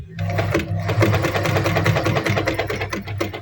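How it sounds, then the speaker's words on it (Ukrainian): A Veritas 8018/2 sewing machine stitches forward in a close, loud, rapid rhythmic chatter, running continuously throughout with no pause. "опускаємо голочку, лапку, шиємо вперед"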